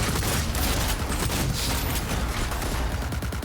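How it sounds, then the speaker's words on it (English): A shotgun fires at close range in the video game Cyberpunk 2077, with a dense, continuous barrage of loud, booming blasts packed tightly together for the whole stretch. "let's try using a shotgun close by"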